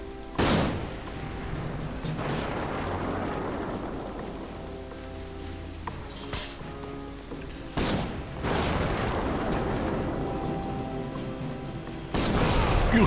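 Heavy cannon blasts in the video game Guild Wars 2 boom repeatedly, each followed by a rumbling roll of noise, with about four loud shots spaced several seconds apart.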